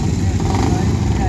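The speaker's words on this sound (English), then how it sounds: "What an absolutely gorgeous motorcycle that is." A motorcycle runs at a motorcycle sprint event, its engine a loud, steady rumble close by, with a voice speaking over it.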